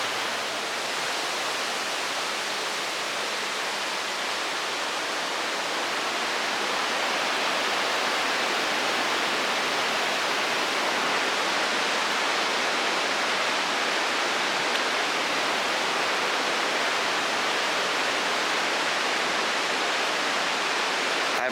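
The waterfall at the Sinks in the Great Smoky Mountains roars as a steady, loud, broadband rush of falling water that stays constant throughout with no voices over it.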